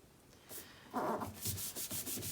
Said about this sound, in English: I'm gonna burnish this a little bit.